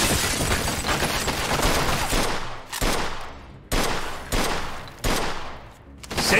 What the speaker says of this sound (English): They shooting from up top!